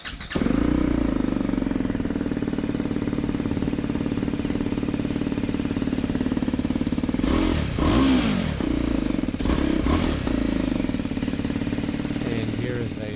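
A BMW G310 R motorcycle with a catalytic converter fitted and the exhaust baffle removed idles with a loud, steady, throbbing rumble close by, blipped in two sharp revs partway through, while someone talks over it.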